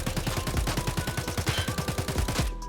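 Sustained volley of AK rifle fire in Escape From Tarkov, a rapid, evenly spaced string of close, loud shots that stops abruptly, with no talking.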